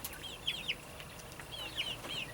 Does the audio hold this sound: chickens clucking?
yes